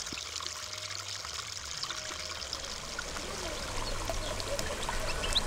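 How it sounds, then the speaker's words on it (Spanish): Water trickles and splashes with a steady, soft murmur throughout, flowing gently with no voices over it. "se escapa suave el murmullo del agua chapoteando"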